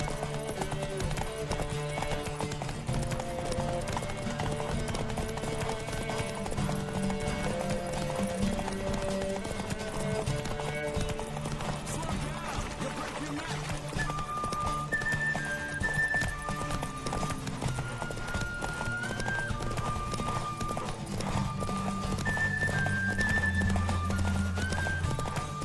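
Roach, the horse in The Witcher 3, runs with rhythmic hoofbeats that carry on throughout, set against a continuous game music score that stays prominent the whole time.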